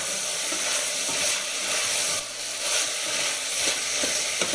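Veal and onions, seasoned with salt and black pepper, frying slowly in a pan for a traditional tasqebap, giving a steady, moderately loud sizzle with faint stirring, no voices.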